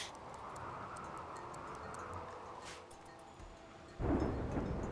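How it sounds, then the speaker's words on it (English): A rainy thunderstorm in the video game RimWorld: steady rain hiss with ticking drops, then a louder rumble of thunder swells in near the end. "that's a rainy thunderstorm"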